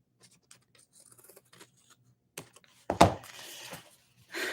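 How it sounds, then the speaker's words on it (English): Scissors snip a small scrap of fabric at close range, quiet light clicks followed by one louder crisp cut, then a soft rustle at the end. "I'm going to go ahead and cut this extra little piece off"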